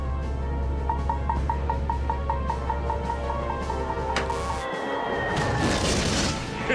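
A cartoon sci-fi ionizer cannon fires from an aircraft called the Cloud Wraith: a low humming charge with rising pulsing tones builds, then breaks into a loud, crackling blast that rings out near the end.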